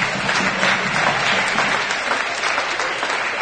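Applause from a live-streamed dance event audience, a dense, steady wash of many hands clapping close and loud for the full stretch, with faint voices mixed in.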